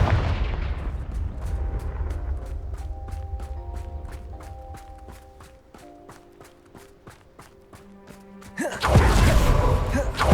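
A fire spell from the video game Hogwarts Legacy bursts in with a heavy blast, followed by a string of rapid sharp impacts over ringing musical tones, then another loud whooshing explosion at the end.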